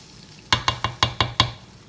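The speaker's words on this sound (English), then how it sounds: "the green beans are sauteing now" Green beans sauteing in a pan, stirred with a quick, even run of six close scraping strokes over a faint sizzle, starting after a brief quiet moment.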